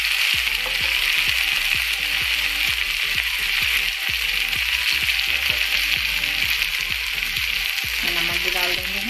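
Tomatoes fry with browned onions in a pan, giving a steady bright sizzle. Regular scraping strokes of a spoon stirring the mixture sound beneath it.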